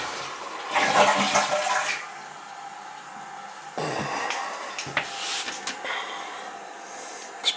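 A new replacement toilet flushes close by, water rushing loudly for a couple of seconds and then trickling and refilling with scattered clicks and splashes.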